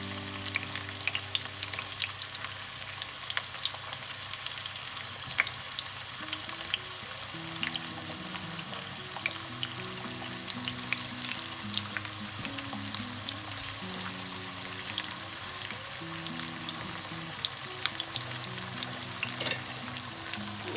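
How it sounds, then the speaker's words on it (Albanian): Zucchini slices frying in oil in a pan, a continuous close crackling sizzle with scattered pops, steady and unbroken for the whole stretch with no voices. "Gjatë kohës që ato skuqen, vazhdojmë me punën që të kemi të gatshëm"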